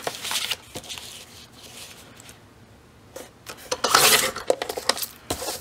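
Paper is trimmed by an eighth of an inch at the top and bottom for a recycled box cover, making short scraping and rasping strokes with quiet gaps between them and a louder cluster of cuts toward the end.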